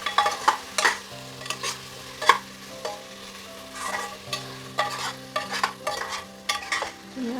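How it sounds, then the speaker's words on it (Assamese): Mutton curry is stirred in a pan, giving repeated scraping and clinking spoon strokes over a soft sizzle, close and fairly quiet, with a steady low hum beneath and no voices. "ধুনীয়াকৈ উলট পালট কৰি দিলোঁ।"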